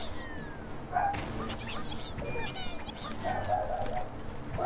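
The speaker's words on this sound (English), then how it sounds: "What's my dog barking at again, man?" Pet dog barking and yipping in a house, short sharp barks around one second in and again near the end, fairly close and moderately loud over faint background noise and game sounds.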